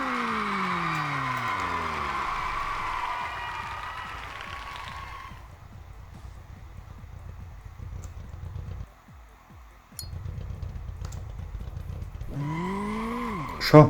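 Car engine in the racing game Street Legal Racing: Redline, revving and pulling through rising gear tones, dropping to a low idle rumble, then revving sharply again at the end, with people talking over it.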